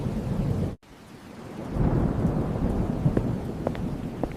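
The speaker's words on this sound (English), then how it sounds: "it looks like the storm knocked out the power" A thunderstorm with a deep rumble of thunder and rain, cut off abruptly by a brief dropout, then building back into a low rolling roar with steady rain and a few sharper cracks.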